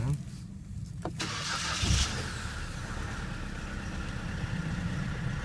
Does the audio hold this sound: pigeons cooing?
no